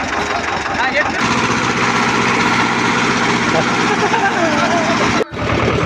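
A farm tractor's engine idles steadily and close by through a field loading job, a continuous low rumble running throughout, with people talking over it and a brief dropout near the end.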